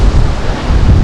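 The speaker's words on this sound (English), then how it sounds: "Probably if I stay away from the lake, probably the wind will disappear, because of all these buildings might block the wind." Strong wind blows near the shore of lake Traunsee in Gmunden, Austria, a loud steady roar buffeting the microphone with heavy low rumbling throughout and no talking.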